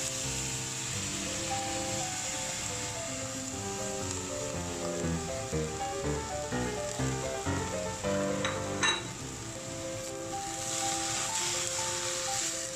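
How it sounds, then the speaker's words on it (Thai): Konjac and egg stir-frying in a hot pan, a steady close sizzle with scraping and stirring throughout, no voices. "ก็ทำการผัดไปเรื่อยๆเลยนะครับ ผัดให้แห้งนะครับ"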